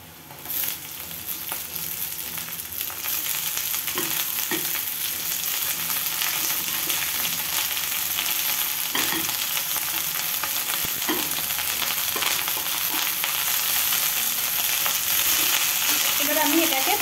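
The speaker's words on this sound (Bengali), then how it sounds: "এর মধ্যে আমি কেটে রাখা বাঁধাকপিগুলো ছেড়ে দেব।" Chopped cabbage and golden-brown onions fry steadily in a pan, with a continuous close sizzle and occasional stirring scrapes throughout, and no talking.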